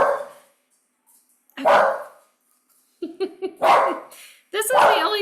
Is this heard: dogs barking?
yes